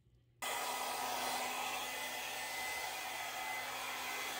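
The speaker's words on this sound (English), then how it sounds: "Once I blow it around with the blow dryer," A hair dryer switches on after a brief quiet moment and blows steadily and loudly, used to spread acrylic paint in an acrylic pour; a continuous close whoosh with no talking.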